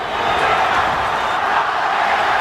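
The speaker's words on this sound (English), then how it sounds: "English crowd chanting Nazi," English crowd chanting at a boxing match between Marco Antonio Barrera and Naseem Hamed, a dense, steady roar of massed voices from a large arena, continuous and fairly loud.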